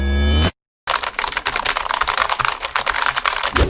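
Close, rapid typing on a Qpad mechanical keyboard with red and blue switches, a dense clatter of sharp key clicks following a brief burst of loud sound and a moment of silence.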